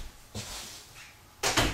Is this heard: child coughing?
no